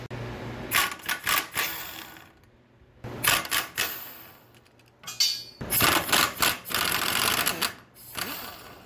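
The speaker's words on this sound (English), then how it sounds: "especially for these rear end bolts here. Now I'm going to get those loosened up." A ratchet wrench rattles in quick bursts, loosening the rear end bolts on a 1938 Ford, with close, repeated clicking runs separated by short quiet gaps.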